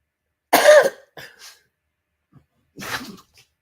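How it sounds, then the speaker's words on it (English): A person sneezes loudly and close by, a sharp burst followed by a short gasp and another sneeze a couple of seconds later, in an otherwise quiet room. "Y'all hear somebody sneezing"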